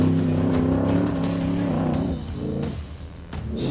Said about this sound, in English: Going for a 254 class record with that AA blown fuel roadster.